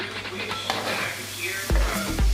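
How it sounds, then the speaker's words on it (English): Onions, riro and pepper mix stirred in a pot over the fire while cooking Yoruba efo riro, with soft scraping and a light sizzle, then two louder low thumps of the spoon against the pot near the end. "Stir and make sure everything is incorporated"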